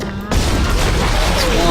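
Plasma cutter weapon firing in the Dead Space video game, a burst of loud booming shots that swell into a dense, continuous barrage after a brief quieter moment.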